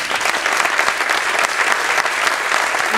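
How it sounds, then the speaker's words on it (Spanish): Dense crowd applause fills a city silver medal award ceremony in Sagunt, continuous and fairly loud throughout with no pauses. "Un fort aplaudiment."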